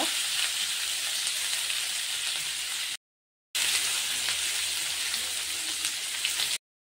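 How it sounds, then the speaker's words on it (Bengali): Chopped onion and green chilli frying in white oil, a steady close hiss of sizzling that cuts out briefly partway and then resumes at the same level. "পেঁয়াজটাকে একটু ভেজে নেবো অল্প"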